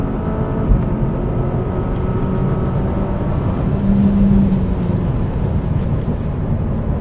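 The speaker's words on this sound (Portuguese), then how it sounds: "Ouve só as passagens de caixa lá atrás." A 367 hp Volvo S60 Polestar engine drones steadily and loudly on mountain roads in the Serra da Estrela, its pitch dropping and shifting as gears change, with no voices over it.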